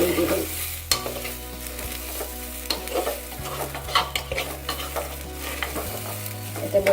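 Rice frying in a pan for polao, a steady sizzle under repeated scraping and stirring strokes, close and fairly quiet, with no voices.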